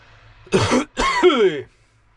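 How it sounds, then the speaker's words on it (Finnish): A man coughs twice in close succession, two rough, voiced bursts close to the listener with a short pause between them, then silence. "nyt se yskittää sitten minun"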